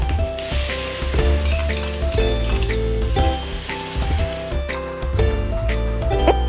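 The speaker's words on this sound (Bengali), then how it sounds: "এবার ভালো করে তেল ছাড়া পর্যন্ত মশলাটা কষিয়ে নিতে হবে।" Ground spice paste of cumin and black pepper fries in oil in a pan for stuffed pointed gourd, giving a steady close sizzle with occasional stirring scrapes beneath a continuous musical backing.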